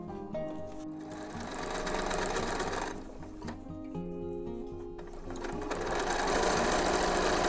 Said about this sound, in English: Sew it down, and then we're going to sew these 2 edges together